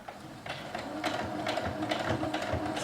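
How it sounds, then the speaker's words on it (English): A sewing machine stitches through felt at a steady, moderate pace, its motor humming under a rapid, regular needle chatter throughout, close and continuous with no talk. "We're just going to go ahead and stitch down."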